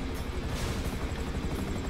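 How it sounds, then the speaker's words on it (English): A helicopter in Grand Theft Auto V thrums close and loud with a continuous rhythmic rotor chop that fills the whole moment, steady and unbroken, with no talking over it. "Helicopter's the main problem."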